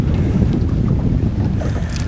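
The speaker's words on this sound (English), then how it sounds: "There's even a wind blowing out of the. Seems like it's coming out of the north." Strong wind buffets the microphone on a fishing boat out on open water, a loud continuous low roar with splashing water mixed in and no talk.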